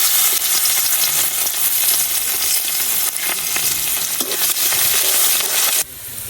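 Garlic and onion fry in a pan for sour-leaf curry, a loud, steady broadband sizzle with crackling that runs almost throughout before dropping abruptly near the end.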